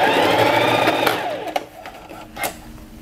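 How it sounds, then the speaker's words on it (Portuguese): Sewing machine stitching fabric for a pet collar, a fast whirring run that winds down after about a second, followed by a few brief clicks and knocks, close and fairly loud. "vou levar na máquina passando uma costura em toda a peça"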